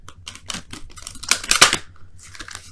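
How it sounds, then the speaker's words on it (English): A deck of tarot cards being shuffled up close: crisp, papery riffling bursts in a quick uneven rhythm, fairly loud, with no voices. "let me go ahead and quickly shuffle these for your romance angels of the week"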